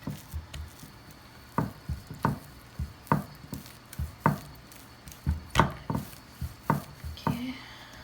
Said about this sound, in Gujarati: હવે ખાલી જરાક એને બાંધી નાખશું આવી રીતના